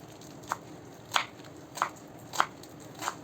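Knife chopping fresh fenugreek (methi) leaves on a board, five crisp separate cuts at a slow, steady pace, close and clear.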